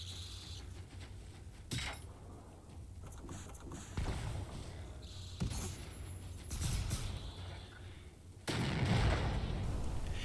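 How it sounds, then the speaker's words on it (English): A Mauser bolt-action hunting rifle firing explosive ammunition in the Generation Zero video game, several heavy booming shots spaced a few seconds apart over a low rumbling game soundscape, with bolt-cycling clicks between them. "launching a cannonball out of a hunting rifle, a bolt-action hunting rifle"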